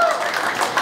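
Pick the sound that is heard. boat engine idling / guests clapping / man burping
guests clapping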